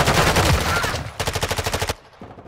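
Rapid automatic gunfire in Call of Duty: Modern Warfare II, a dense opening burst followed by a steady run of about a dozen evenly spaced sharp shots, loud and close, then stopping abruptly.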